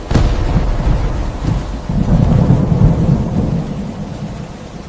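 Heavy rain pouring down with rolling thunder, a sharp crack at the start giving way to a loud, sustained rumble and dense hiss of rainfall.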